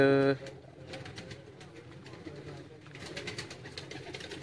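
Breeder pigeons coo softly in a loft, with a brief louder burst at the start followed by steady low murmuring calls and some faint background noise.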